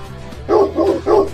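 A dog barks three times in quick succession, loud and close, with no talk over it.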